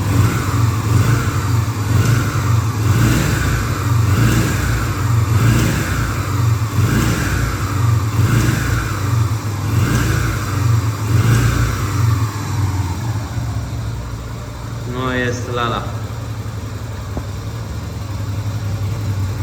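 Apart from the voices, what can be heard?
motorcycle engine revving and idling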